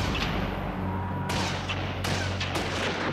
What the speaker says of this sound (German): Als das Schießen begann